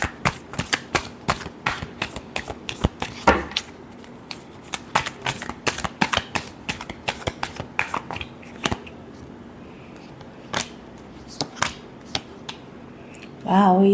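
Tarot cards being shuffled by hand, a steady run of crisp riffling flicks and snaps close up, pausing briefly midway before a final burst at the end, with no talking.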